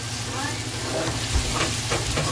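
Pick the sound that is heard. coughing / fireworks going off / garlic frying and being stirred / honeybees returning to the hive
garlic frying and being stirred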